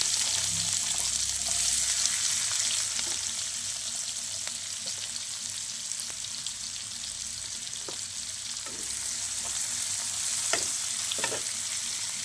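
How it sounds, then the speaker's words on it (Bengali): Chopped onion sizzles steadily in the oil left from frying pointed gourd, a continuous close hiss with occasional stirring scrapes and crackles and no voices. "এবার পটল ভাজার তেলের মধ্যে আমি প্রথমে দিয়ে দেবো পেঁয়াজ কুচি"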